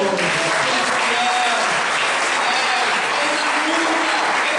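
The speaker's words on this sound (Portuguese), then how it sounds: "dê um aplauso ao Senhor" A church congregation claps in sustained, dense applause that fills the room, loud and even throughout, with faint voices mixed in.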